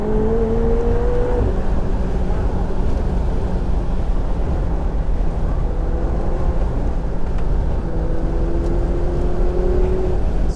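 A $1.7M hypercar accelerates hard along a Sonoma Raceway straightaway, its engine a loud, continuous roar heard from inside the cabin, with rising whine tones as the turbo spools and gears climb.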